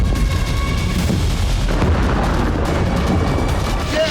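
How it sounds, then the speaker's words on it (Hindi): Explosions from a Hezbollah strike on Israel's Ramat David airbase produce a sustained, loud, booming rumble, deep and unbroken, like a prolonged heavy blast roar with no voices over it. "तीसरा धमाका,"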